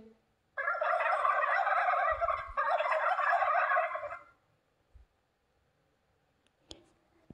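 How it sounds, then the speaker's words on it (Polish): Farmyard turkey gobbling, two long loud rattling bursts back to back, close and alone, followed by a few faint knocks. "A indyk się rozindyczył."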